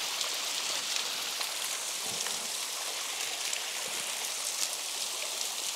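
A mountain waterfall flowing steadily, a constant broadband rush of falling water with no breaks, close and fairly loud, with no voices.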